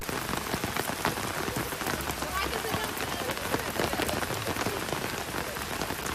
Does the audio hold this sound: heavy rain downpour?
yes